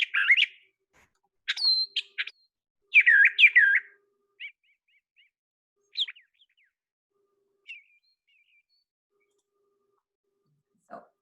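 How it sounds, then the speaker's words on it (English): A solo brown thrasher sings varied chirpy phrases in short bursts, often doubled, with pauses between; clear and fairly close, later phrases growing fainter and sparser. "a brown thrasher, which sounds similar, says each thing twice."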